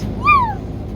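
A voice imitates a cat's meow during a children's farm song, one short rising-then-falling tonal cry standing out over a low background hum.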